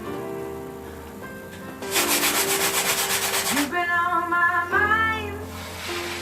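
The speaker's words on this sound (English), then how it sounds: "Helping to sand that down so that when you start with a nice smooth surface." Sandpaper rubs back and forth over an acrylic-painted canvas, a close, loud scratchy burst of rapid strokes lasting a couple of seconds, with faint background tones and a brief animal-like cry nearby.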